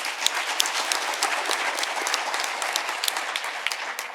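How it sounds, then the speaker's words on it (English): A round of applause from the audience at a national space conference plenary session, steady crowd clapping with sharp individual claps standing out, continuous throughout. "Please give them another round of applause."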